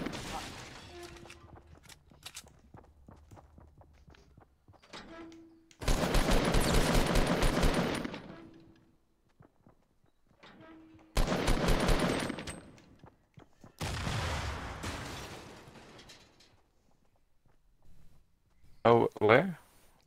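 Bursts of automatic gunfire in Fortnite Battle Royale, three long sustained volleys separated by quieter gaps with people talking between them, followed by a brief sharp final burst.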